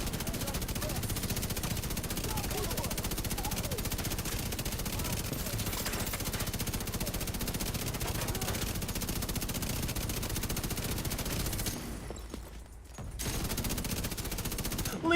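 A video game gun fires a long, continuous stream of rounds, a loud rattling barrage that runs almost unbroken before a brief drop near the end, with talk mixed underneath.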